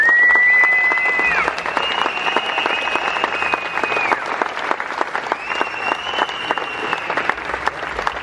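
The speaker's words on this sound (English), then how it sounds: "give him a round of applause as he comes there" Crowd applause at Anfield for former player Chris Kirkland, sustained dense clapping throughout with cheering and whistles rising over it.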